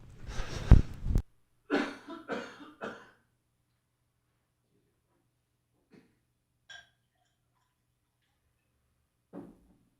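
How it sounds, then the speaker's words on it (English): A loud cough bursts out, followed by a quick series of three or four smaller coughs, then near silence with a few faint clicks. "I'm going to cough for a second."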